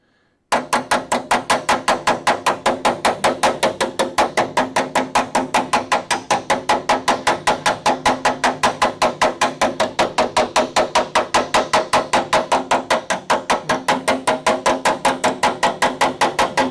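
A hammer strikes against a dolly to flatten a metal flange on a car body, giving a fast, relentless train of sharp metallic blows at about five per second, loud and close, lasting the whole stretch.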